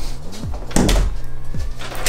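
A door in a home swings open, its hinge giving a couple of short creaks with a dull thump from the latch in between, close and fairly loud, with no voices.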